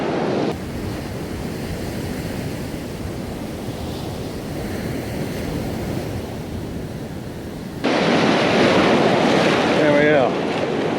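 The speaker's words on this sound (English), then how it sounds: "Let this wave pass." Ocean surf washes in steadily at a beach where someone is fishing in cold water, with a louder, closer wave breaking near the end over constant wind rumble on the microphone.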